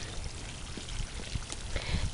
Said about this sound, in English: So I'm going to give this a deep water